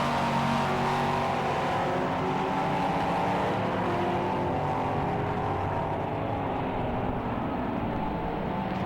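A damaged Porsche endurance race car, number 69, with a blown rear tyre limps to the pits on its rim at Silverstone, its engine a steady loud drone throughout with no talk.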